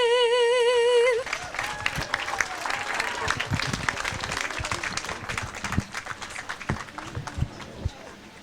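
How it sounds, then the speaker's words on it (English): A crowd at a school farewell ceremony breaks into applause as a sung national anthem ends on a held vibrato note; steady, dense clapping fills the room for several seconds, with scattered voices and cheers mixed in. "How about one more round of applause for Gina?"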